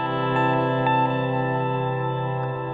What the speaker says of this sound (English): you can use this pedal to either use just the delay or use just the reverb, or you can mix both